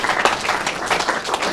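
An indoor audience at a web user group meeting applauds, producing a steady patter of many hands clapping at moderate volume throughout, with no clear speech.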